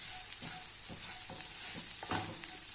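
Grated carrot is stirred through a sizzling pan, a steady hiss of frying under soft repeated scraping strokes of a spoon, close and without speech.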